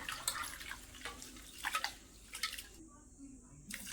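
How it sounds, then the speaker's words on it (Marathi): Water sloshes and splashes in short bursts as a bowl of rice is swished and rinsed, with dripping and quiet gaps between. "तांदूळ दोन पाण्याने स्वच्छ धुवून घेतलाय"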